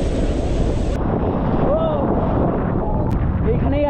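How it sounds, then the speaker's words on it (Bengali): Sea waves roll in at Digha beach, a loud continuous wash of surf heavily buffeted by wind against the microphone, with a few faint distant voices in the background. "যত সামনে যাবে তত বেশি ঢেউ দেবে। এই দেখো ঢেউগুলো দেখো।"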